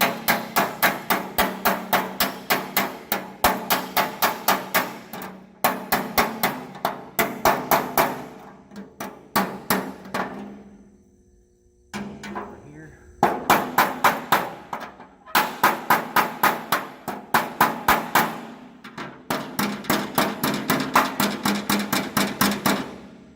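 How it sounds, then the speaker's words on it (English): Rapid bursts of a large metal hammer striking a dented steel truck fender on a dolly, sharp rhythmic taps in long runs separated by short pauses, close and loud. "You can get up and use the large size hammer."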